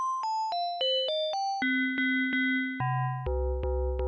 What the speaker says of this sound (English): Got this cross FM one for FM style tones.